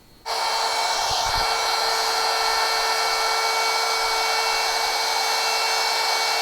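A plunge router cuts an inlay recess into a wooden table top. A high, steady motor whine starts abruptly, with a brief deeper bite as the bit plunges into the wood. The sound stays loud and constant, with no talk.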